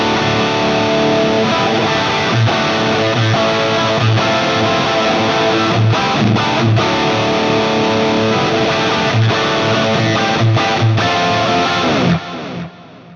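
Distorted electric guitar played through a Fractal amp modeler with a Marshall cab, dual delay and hall reverb, a continuous loud riff with rhythmic chugging and ringing chords, alone without talk.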